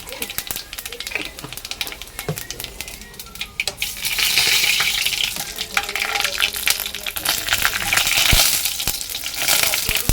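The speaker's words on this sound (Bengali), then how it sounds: "লঙ্কা ফোড়ন দিলাম দুটো, আর জিরে দিলাম, আর তার সাথে একটু পাঁচফোড়ন দিলাম।" Dried red chillies, cumin seeds and five-spice (panch phoron) crackle and sizzle in hot oil in a home kitchen, a steady loud frying hiss that swells midway, with small pops and clinks throughout.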